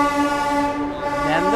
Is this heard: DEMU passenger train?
yes